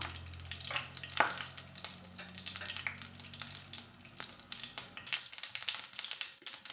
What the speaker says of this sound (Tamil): எண்ணெய் நல்லா சூடேறட்டும் கடுகு கடுகு நல்லா பொறியிட்டோம்